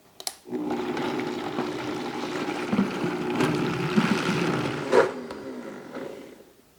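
A blender whirs loudly for several seconds blending garlic scapes with avocado oil, its pitch wobbling as the contents churn, starting and stopping abruptly.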